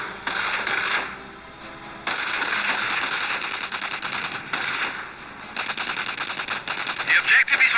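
Dense machine-gun and rifle fire in a Company of Heroes battle, rapid bursts crackling loudly in quick succession with brief lulls, close and relentless.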